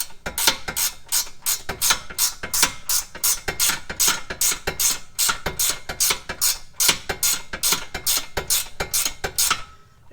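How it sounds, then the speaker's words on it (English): A 17 mm wrench ratchets rapidly on a tie rod of a 2011 Hyundai Elantra, producing a fast, regular run of sharp metallic clicks that continues for about ten seconds with no talking. "This is a 17 millimeter wrench."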